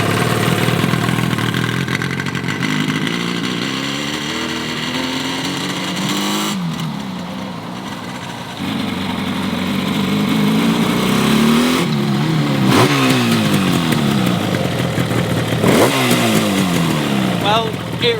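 A Yamaha RD350 two-stroke motorcycle, revived after sitting abandoned for ten years, runs close by in first gear with a buzzing, rising and falling engine note as it revs and pulls away, with a voice briefly under it.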